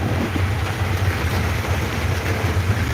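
Heavy rain pouring over Sylhet city, a dense, steady wash of noise with a low rumble underneath that holds constant and fairly loud throughout, with no voices.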